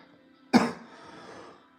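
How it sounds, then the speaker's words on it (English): A single sharp cough close by, followed by a raspy trailing breath. "I don't know why I'm coughing."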